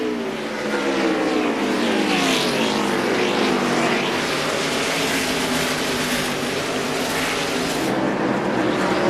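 NASCAR race cars roar around the track in a 2001 Busch Series race, a loud continuous engine drone with rising and falling pitch as cars pass close by, no talk.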